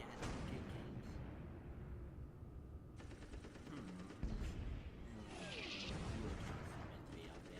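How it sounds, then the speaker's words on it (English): Video game gunfire crackles continuously in the background, partly masked by a player's voice chat over the top. "Sorry can't hear you over the gunfire too well."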